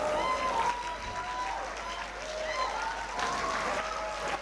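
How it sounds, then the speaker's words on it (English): Sustained applause from a conference audience at an opening ceremony, steady dense clapping that holds level throughout with faint voices mixed in. "a round of applause"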